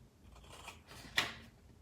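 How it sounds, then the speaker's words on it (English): Scissors cut through a paper box template, with a faint rustle and then one sharp, distinct snip near the end. "I'm just gonna go ahead and use my scissors."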